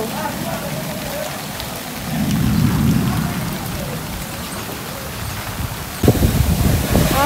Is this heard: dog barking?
no